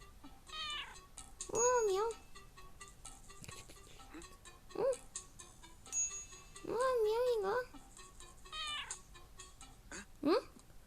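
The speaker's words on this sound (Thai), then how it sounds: "โอ้น้องเหมียวนี่เอง" A cat meows several times, drawn-out wavering cries spaced across the stretch, close and fairly loud, with a person speaking softly between them.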